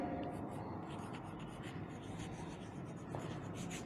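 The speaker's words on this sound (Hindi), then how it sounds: "यहाँ मैं लिख देती हूँ" A teacher writes on the board during a physics lecture on atomic spectra, a steady faint scratching that runs for a few seconds over a soft room background.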